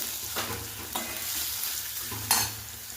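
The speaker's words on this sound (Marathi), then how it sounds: "तर चला मी कांदा व्यवस्थित परतून घेते" A medium onion sautéing in a pan while being stirred for a dal palak, with a steady close sizzle and three sharper scraping strokes of the spoon, the last one loudest, and no talking.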